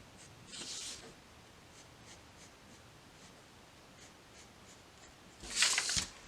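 A pencil sketching lines across paper, a soft scratchy stroke near the start and a louder, busier burst of scribbling at the end, with quiet rustling in between.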